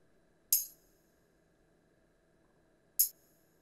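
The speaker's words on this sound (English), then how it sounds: "a tambourine sound, and the sound sounds like this." A tambourine from a Korg Triton drum kit strikes twice about two and a half seconds apart, each hit a bright, short jingling shimmer that decays quickly into silence, with no voices.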